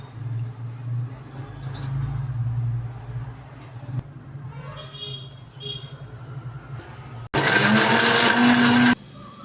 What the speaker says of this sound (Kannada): ಇವಾಗ ಮಸಾಲೆ ಪದಾರ್ಥಗಳನ್ನು ರುಬ್ಕೊಳ್ಳೋಣ.